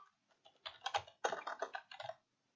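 Rapid keystrokes on a computer keyboard while writing an SQL query, arriving in two quick bursts of close, crisp clicks with short pauses between them and no voices.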